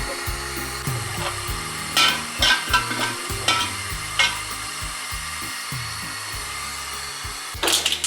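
Byadagi chilies and mustard seeds fry in a pan of oil with a steady close sizzle, broken by several sharp stirring scrapes and clatters; no one speaks.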